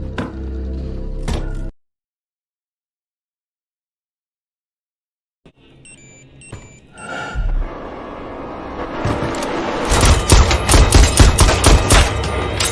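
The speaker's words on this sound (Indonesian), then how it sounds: "Safin yang sedang mengecek ke bagian lantai atas tiba-tiba ditembak oleh Madeleine." Gunfire in the film No Time to Die: a loud scene cuts to dead silence, then tension builds into a dense, rapid volley of sharp shots and impacts that grows louder toward the end.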